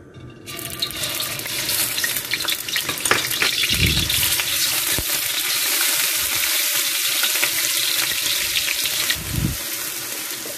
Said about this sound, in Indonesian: tumis bawang bombaynya sampai layu